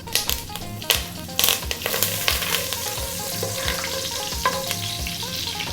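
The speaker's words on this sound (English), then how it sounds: "In goes those green cardamom pods and the curry leaves." Green cardamom pods and curry leaves crackle and spit in hot sunflower oil, a loud close sizzle with rhythmic stirring scrapes and pops throughout, no talking.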